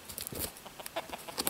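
Chickens from a small homestead flock cluck softly in short, scattered bursts, fairly faint and close, with no one talking.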